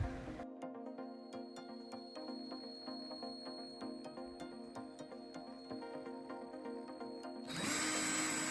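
A cordless battery screwdriver runs continuously with a steady whirring motor whine and faint regular ticks, ending in a louder, harsher burst of noise; no one speaks.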